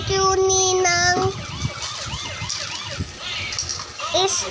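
A police siren wails loud and close with rising and falling tones, then fades back behind crowd noise and scattered voices before the wail swells again at the end.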